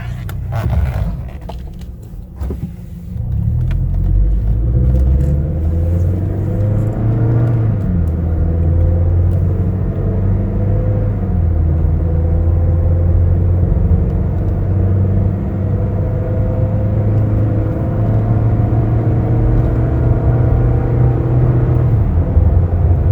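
A 2016 Toyota Tacoma Double Cab pickup on a test drive, heard from the cabin as a loud, steady low engine and road rumble with gentle shifts in pitch, and no one talking.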